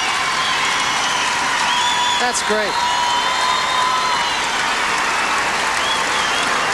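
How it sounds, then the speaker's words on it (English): A crowd at a 1989 men's gymnastics finals in Oklahoma City applauds in a sustained, even wash of clapping, with a voice talking briefly over it. "Listen to the crowd."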